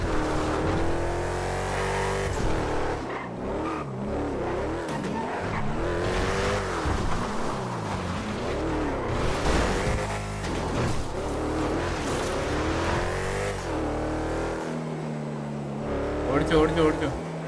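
A truck runs along a highway in a driving video game, with continuous engine and road noise, brief tire squeals and revving, and voices talking over it throughout.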